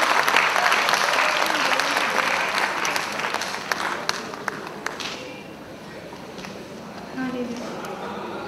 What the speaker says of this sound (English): May I please have a huge round of applause for Daksha ma'am.